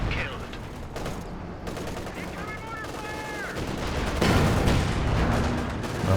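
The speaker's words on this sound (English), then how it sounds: "Some more major artillery coming in there." Artillery and gunfire in a WWII-style strategy video game, with repeated booming impacts and rattling bursts layered densely, swelling louder near the end, while a commentator talks over the battle.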